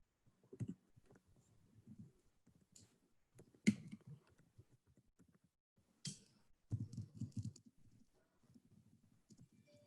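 Faint, sparse computer mouse clicks and light keyboard tapping during a software demo, arriving as isolated soft clicks and small clusters in a quiet room.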